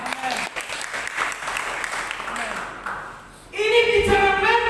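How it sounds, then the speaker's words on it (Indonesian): Applause breaks out in a church worship service, a burst of many hands clapping after a preacher's spoken lines, loud and close for the final second or so. "Beri tepuk tangan."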